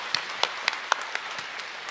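Sparse clapping from a small audience at a Chinese crosstalk comedy show: about eight sharp, separate claps in a loose, uneven rhythm, fairly close and with no talking over them.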